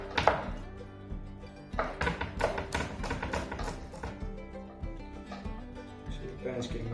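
Knife thinly slicing chillies or garlic on a cutting board for chilli and garlic prawns, a run of quick close taps and thunks in irregular bursts over a low background hum.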